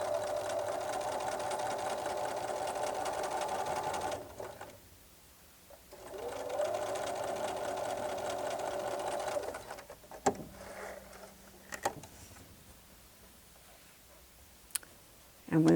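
A sewing machine with a quarter-inch foot stitches narrow quilt strips in two steady runs of about four seconds each, close and humming. Scattered clicks and handling noises follow after a pause.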